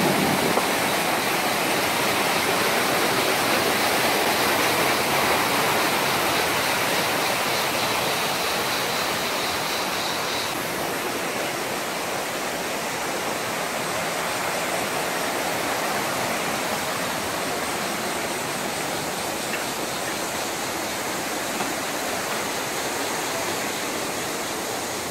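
A small waterfall pours into a natural pool in Sapadere Canyon, making a steady, close rush of falling water that fills the whole scene without pause.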